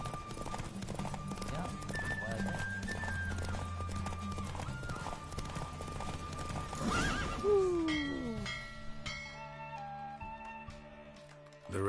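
Roach, the horse in The Witcher 3 video game, gallops with rapid, steady hoofbeats that run through most of the clip, then whinnies loudly before the pace slows, with game music behind.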